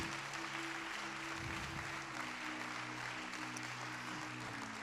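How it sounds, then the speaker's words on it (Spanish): A church congregation claps for Jesus, a dense, even wash of applause at moderate distance, with sustained low musical tones droning underneath throughout. "Denle un aplauso fuerte a Jesús."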